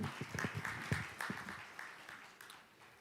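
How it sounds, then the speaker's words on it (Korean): An audience at a business forum applauds a speaker being introduced, with scattered, fairly distant claps that are busiest at first and then taper off. "박수 부탁드릴게요"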